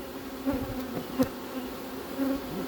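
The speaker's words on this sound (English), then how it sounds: "Bees can clean some of this up." Honey bees buzz softly nearby, a low steady hum with a few louder passes as individual bees fly close.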